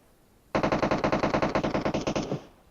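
In the video game PUBG Mobile, a single long burst of rapid automatic gunfire fires about twenty evenly spaced shots over two seconds, loud and close, with no talk.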